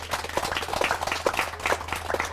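Light, scattered clapping from a small audience honoring a newly appointed vice chairman at a women in golf gathering, soft and brief with uneven claps.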